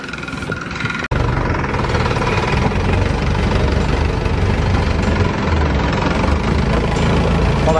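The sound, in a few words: boat engine running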